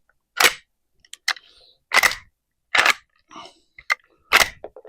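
A Winchester 1906 rifle's action is cycled by hand several times, giving a series of sharp, close metallic clacks and clicks in an uneven rhythm with quiet gaps between them.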